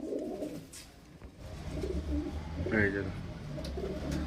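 Madrasi highflyer pigeons cooing nearby, soft throaty coos rising over a steady background hum while someone talks at a moderate level.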